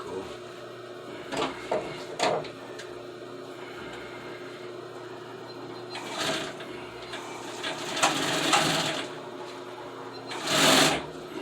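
A sewing machine stitches car seat upholstery for old Suburban seats, running in several short bursts and a few longer stretches of steady whirring, close and fairly loud with no talking.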